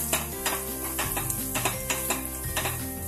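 Close, rhythmic scraping of a spoon through sizzling tempering in a pan as salt is mixed in for a capsicum palya, several quick strokes over a continuous crackling fry.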